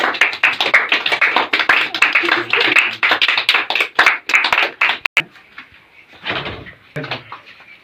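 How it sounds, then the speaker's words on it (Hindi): Group applause at a GK quiz competition prize ceremony, dense and sustained for about five seconds, then thinning into a few scattered claps with brief talk. "ताली बजाओ सबको"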